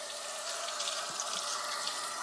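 Tap water runs steadily over a removable part of a home emergency water filter, a continuous close splashing hiss with small irregular spatters as the piece is rinsed.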